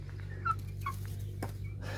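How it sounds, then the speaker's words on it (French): Friendly bearded Faverolles hens in a vegetable garden: a few soft, short clucks and murmurs close by over a constant low hum, with faint rustling between the calls. "C'est des poules très amicales, les favorolles."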